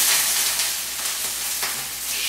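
Shrimp shells fry in olive oil with a loud, close, continuous sizzle and a few soft stirring scrapes, no voices.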